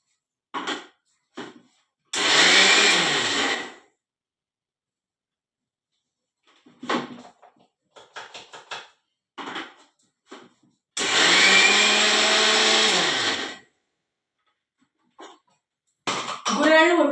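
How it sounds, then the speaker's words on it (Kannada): A mixer grinder whirs loudly in two bursts of a couple of seconds each as it grinds roasted niger seeds into powder, with a person talking in the quieter gaps between. "ಗುರೆಳ್ಳು ಹುರ್ಕೊಂಡೇನೆ ಅದನ್ನ ಪೌಡರ್ ಮಾಡ್ಕೋತೀನಿ."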